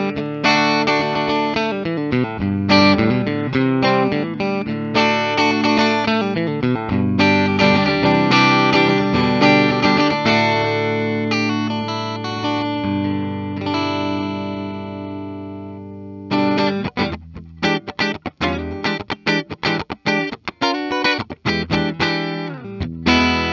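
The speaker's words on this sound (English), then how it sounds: "wait till you hear this neck pickup" A clean electric guitar on its neck pickup, a 1988 Gibson Les Paul Junior DC Pro, plays sustained chords that ring out, then shifts to quick, choppy strums, loud and close with a bright, slightly twangy tone.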